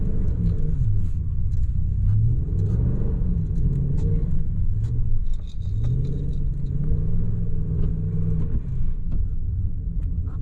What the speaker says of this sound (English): So we'll try to do a donut.